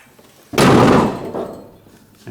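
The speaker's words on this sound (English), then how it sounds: "Let's make sure the bed still closes with this side." The cargo bed of a Polaris Ranger UTV, fitted with a mud guard, closes with one loud, close slam that rings briefly and fades, followed by a small clunk.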